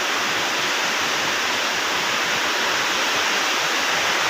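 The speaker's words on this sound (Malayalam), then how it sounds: "കീടിലെ മഴ." Heavy rain falls steadily during a Kerala monsoon downpour, a dense, constant roar with no breaks and no voices.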